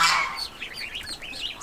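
Chickens in a farmyard box chirp and cheep in a quick run of high, close calls, a louder burst at the start followed by several shorter peeps.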